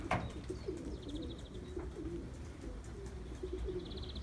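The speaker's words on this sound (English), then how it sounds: "This is the loft of the young birds who go to the two first national races." Racing pigeons coo softly in a young birds' loft, making low, repeated throaty calls with faint chirps mixed in, quiet and somewhat distant against a steady background hum.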